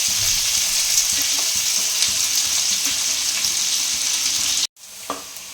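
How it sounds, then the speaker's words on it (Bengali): Chopped onions fry hard in hot oil for a chicken and potato curry, a loud steady sizzle with stirring scrapes throughout, cutting out briefly near the end before resuming. "বেশ ভালো করে আমাকে লাল করে ভেজে নিতে হবে।"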